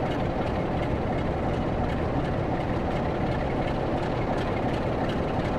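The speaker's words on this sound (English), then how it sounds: "We've got this train coming down here" A heavy train rumbles past in Train Sim World, a loud, steady broadband roar of engine and wagons with faint rhythmic wheel clicks throughout and no talking.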